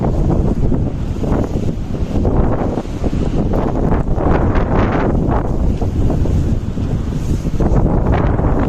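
Fierce wind in a Pyrenees snowstorm, a loud steady roaring buffet battering the microphone without pause, with no voices.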